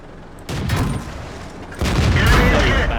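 Two heavy tank-gun shots ring out in World of Tanks, the first near 0.5 s and a louder second blast near 1.8 s, each a broad booming crack with a long rumbling tail under faint game voice callouts.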